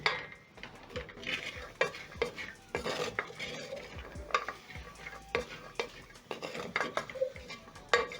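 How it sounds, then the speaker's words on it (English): Raw peanuts being stirred as they roast in a pot on a stovetop, with repeated scraping and rattling of the nuts against the metal at an uneven rhythm, close and fairly loud, with no voices. "use a bigger pot so that the peanuts can roast evenly and quickly"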